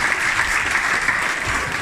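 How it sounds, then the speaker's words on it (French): An audience at the mayor's New Year address in Nasbinals, Aubrac, France, applauding together, a thick steady wash of claps that stops abruptly at the end. "Je pense qu'on va aussi applaudir l'ensemble du conseil municipal à nouveau."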